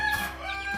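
Ameraucana chickens cluck in a short, close burst of throaty fowl calls with a nasal tonal quality, fairly loud and heard alone.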